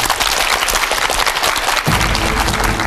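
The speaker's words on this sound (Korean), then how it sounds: "힘찬 박수로 강연 청해 듣겠습니다." A lecture audience breaks into steady, dense applause to welcome the speaker onstage, the clapping loud and continuous with no voices over it.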